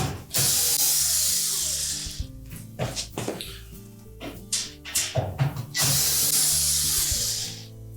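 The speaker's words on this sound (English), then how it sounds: "next we'll remove the screws that secure that lower back panel" A power screwdriver whirring as number 2 Phillips screws come out of the lower back panel of a Samsung range, with repeated spin-ups, ratcheting clicks and metallic handling noises between runs, close and steady.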